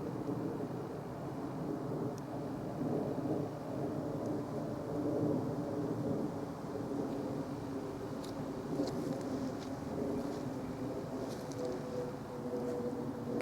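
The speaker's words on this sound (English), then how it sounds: "So I can hear the plane." Airplane passing high overhead at night near Caergwrle Castle, a faint, steady low drone that holds without much change and sits far off under quiet outdoor air.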